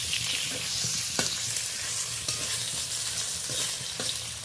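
Four raw mango slices fry with panch phoron spices and broken green chillies in a pan, giving a steady, close hiss with a few soft stirring scrapes and clicks.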